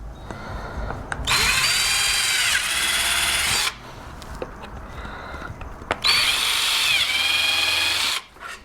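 A power drill countersinking screw holes in wood pieces during a pantry remodel, two loud close bursts of high whining drilling, each lasting a couple of seconds, with a brief quieter pause and spin-down between them.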